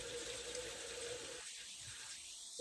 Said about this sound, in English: I'll put a little bit of that bloom water on